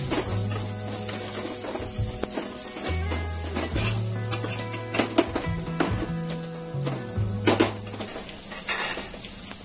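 Egg fried rice stirred and tossed in a hot pan, a steady sizzle and fry with repeated scraping strokes and light clinks of a utensil against the pan, close and continuous with no talking.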